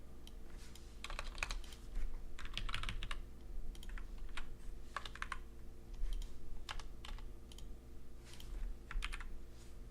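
Rapid clattering keystrokes on a computer keyboard go on steadily, in bursts of quick clicks with short pauses, close but quiet over a low hum and with no talk.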